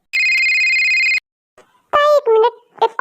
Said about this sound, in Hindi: तभी जंकुक के फोन पर एक कॉल आती है।